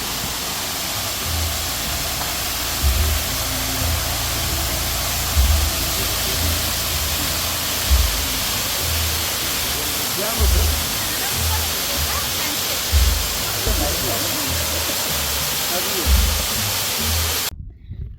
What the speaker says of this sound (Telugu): దారిలోనైతే వాటర్ ఫాల్స్ ఉంది.